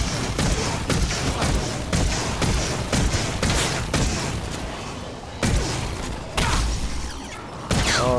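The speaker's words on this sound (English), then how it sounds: "I like the shotgun, it's automatic." Rapid automatic shotgun blasts in the Advanced Warfare Exo Zombies game, a dense run of loud, booming shots with short gaps and brief lulls, firing near and continuous over game noise.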